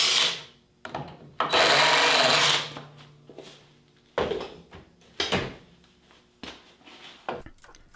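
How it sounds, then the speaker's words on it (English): Power drill pre-drilling two pilot holes in a wooden sacrificial fence, heard as a few short whirring bursts with one longer sustained run near the start, close and fairly loud amid quieter handling clatter. "So I typically pre-drill the 2 holes."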